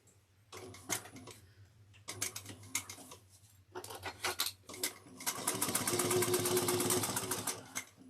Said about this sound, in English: just so we're sewing this box, we're not sewing past it